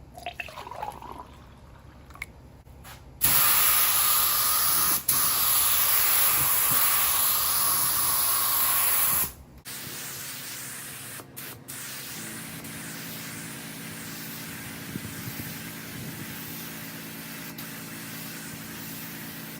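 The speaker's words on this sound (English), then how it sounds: "This is my formula. I will put inside to the spray gun." A paint spray gun hisses steadily, loud and close, spraying a custom paint formula for a crystal pattern finish, then drops to a quieter continuous hiss with faint clicks and background hum.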